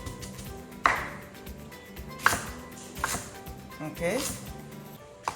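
A knife chopping onions on a board for salsa, a handful of crisp, separate cuts spaced about a second apart, close up, while a person speaks briefly.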